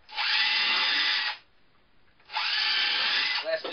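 A power drill pre-drilling hinge screw holes in a wooden slab door whines loudly in two steady bursts, separated by a short quiet pause, close by and with no voices.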